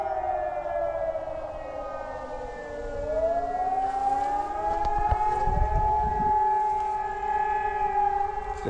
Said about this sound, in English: That's our sirens, if it's burning somewhere or if there's an emergency